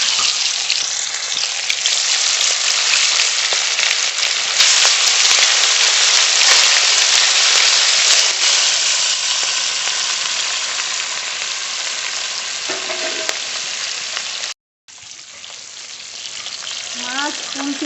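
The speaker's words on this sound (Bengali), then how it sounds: "লবণ হলুদ মাখানো মাছ দিয়ে দেব।" Turmeric- and salt-rubbed fish frying in hot mustard oil in a wok, a loud, steady, close sizzle that lasts throughout, broken by a brief cutout near the end and followed by faint voice-like traces.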